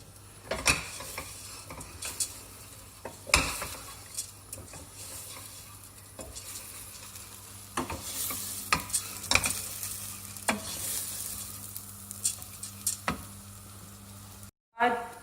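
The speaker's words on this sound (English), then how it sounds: "you cook out the lentils first before you add any liquid" Lentils cooking dry in a pan before any liquid goes in, a soft steady sizzle broken by sharp scraping stirs and clinks of a spoon against the pan at irregular intervals, close and moderately loud.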